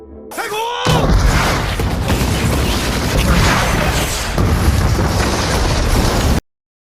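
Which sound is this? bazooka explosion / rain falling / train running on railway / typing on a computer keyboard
bazooka explosion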